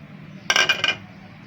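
A spoon tapping and scraping against a container while milk powder is added, a quick close burst of three or four bright metallic clinks over faint background noise.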